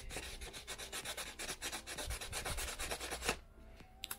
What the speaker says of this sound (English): But this is our dedicated piece of sandpaper for resin. It's a piece of 600.